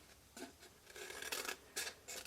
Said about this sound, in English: I've got a pair of scissors.